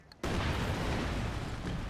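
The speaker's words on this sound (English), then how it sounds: "You see those new explosions, the new Wikinger explosions?" Heavy artillery explosions from the Wikinger doctrine in Company of Heroes 2 burst in suddenly after a brief quiet moment, a loud, dense roaring rumble that sustains to the end.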